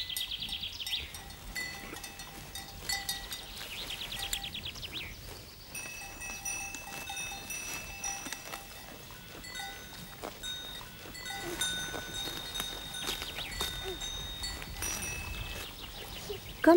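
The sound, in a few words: goat herd grazing in a pasture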